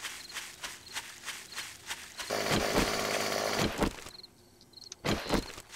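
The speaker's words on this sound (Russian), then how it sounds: "Действительно, попробовали мы бензопилу" Chainsaw from the video game 7 Days To Die revving loudly for about two seconds, with footsteps and other game noises around it before and after.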